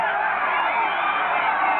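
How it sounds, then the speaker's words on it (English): Crowd noise from a 1984 Michigan Panthers vs New Orleans Breakers football game, a steady, dense roar of stadium fans that stays at an even level throughout without distinct peaks. "And the crowd comes to life now."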